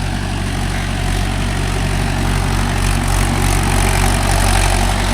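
Mahindra 575 DI tractor fitted with cage wheels working a rice field, its engine a steady, loud, close drone that holds level throughout with no talking.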